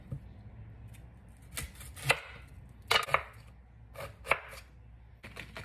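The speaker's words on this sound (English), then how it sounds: "Roughly chop." Knife roughly chopping vegetables such as ginger and sweet onion on a board: a handful of quiet, scattered chops in short clusters, close but soft, with no speech.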